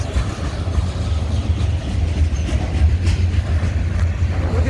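A CSX freight train rolls past at close range, giving a loud continuous rumble with a low engine drone and faint wheel clatter throughout.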